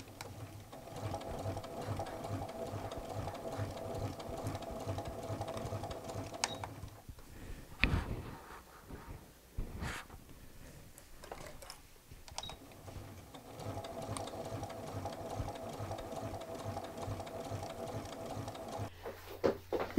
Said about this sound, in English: I'm often using it with my sewing machine